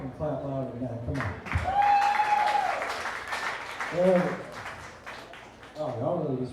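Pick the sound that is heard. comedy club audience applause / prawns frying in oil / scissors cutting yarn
comedy club audience applause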